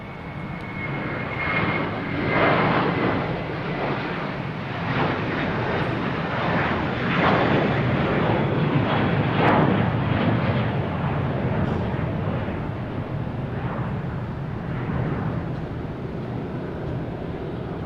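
An airplane takes off at Boston Logan Airport, its engines giving a steady, fairly close jet roar that swells and holds for the whole stretch, with no talking over it.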